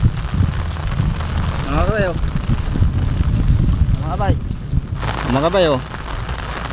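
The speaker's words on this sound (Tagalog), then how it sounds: "Sobrang lakas nung ulan" Heavy rain pours steadily at an outdoor fishpond, a constant dense hiss and patter, while someone talks over it.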